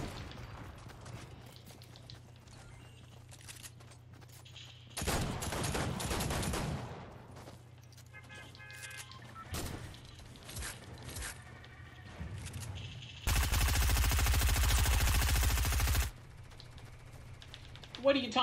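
Heavy assault rifle gunfire in a video game, with bursts of rapid shots and a longer sustained volley over steady game background noise, moderately loud, with scattered softer impacts and clicks between bursts.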